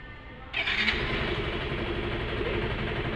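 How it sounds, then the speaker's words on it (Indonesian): An engine cranks and catches, then settles into a steady, fairly loud idle that runs on evenly, with no voices. "Kita cek mesin menyala lagi."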